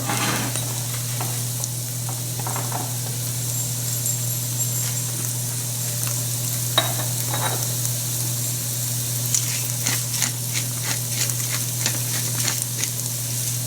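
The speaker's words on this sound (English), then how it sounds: "We'll add the onions, the chopped onions, and the celery, and then we'll cook it for a few minutes." Chopped onions and celery sizzle steadily in a hot pan, a loud continuous frying hiss with occasional crackles and the scrape of stirring, close and without talk.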